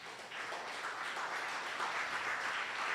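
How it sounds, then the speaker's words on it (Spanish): A church congregation applauds during a Spanish-language sermon, a steady, soft wash of many hands clapping at some distance that continues evenly throughout, with no talking over it. "Denle un aplauso al Señor."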